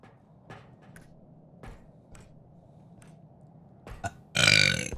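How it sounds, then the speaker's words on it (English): A single loud, close burp erupts at the very end, preceded by scattered faint clicks and thumps in a quiet room during a horror co-op game. "A burp. Oh my burp."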